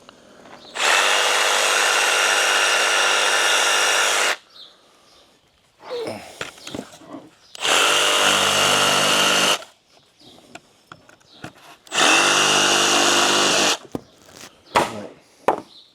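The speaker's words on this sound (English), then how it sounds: "Taking my little barrel grip jigsaw and just finishing these out." A small barrel grip jigsaw cuts wooden deck stair stringers in three loud bursts of buzzing, rasping sawing, each lasting about two to four seconds, separated by quieter handling clatter and knocks of the board.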